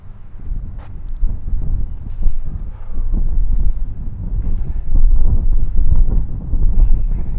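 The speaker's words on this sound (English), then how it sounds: "It's getting a little windy out here" Wind blowing outdoors on a sunny day during an outdoor workout, loud buffeting gusts rumbling against the microphone continuously throughout.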